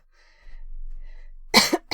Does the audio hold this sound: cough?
yes